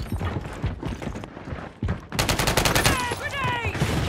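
Automatic gunfire in Call of Duty Modern Warfare 3 multiplayer, a rapid rattling burst that starts partway through and stays loud, following busy in-game chatter and radio voice lines.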